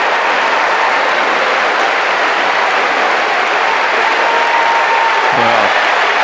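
A crowd at a Wimbledon tennis match applauds steadily and loudly, a dense continuous wash of clapping that carries through the whole stretch.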